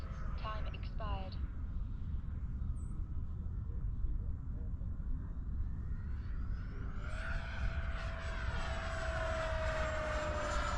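An FMS Yak-130 RC model jet at full throttle, a steady broadband whoosh that swells into a rising whine as it passes close, with a faint voice early on.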